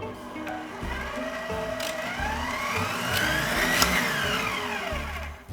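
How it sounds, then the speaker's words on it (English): An electric hand mixer lightly blends macaron batter into meringue in a bowl, giving a steady close motor whir with shifting pitch that rises slightly toward the end, running without pause. "we're gonna lightly mix this with the mixer"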